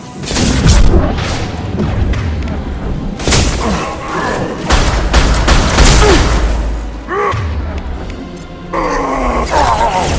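Heavy gunfire and explosive booms in a Mass Effect 2 firefight, dense and loud throughout with deep thuds, grunting voices and combat shouts mixed in.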